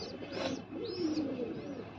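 Pigeons coo softly in low, throaty rolling calls, repeating over a couple of seconds against a quiet background.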